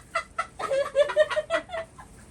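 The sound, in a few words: chicken clucking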